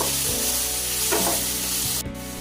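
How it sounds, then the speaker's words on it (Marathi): Chopped tomatoes fry in a pan of hot oil for a restaurant-style matar paneer gravy. They sizzle steadily and loudly at close range, with a brief scrape of stirring partway through. "आणि टोमॅटोचा कच्चेपणा जाईपर्यंत त्याला पण आपण आता फ्राय करून घेऊया त्यामध्ये."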